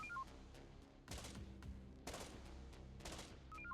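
Distant, faint gunfire from units in Infection Free Zone, a few short bursts and volleys over a low game ambience.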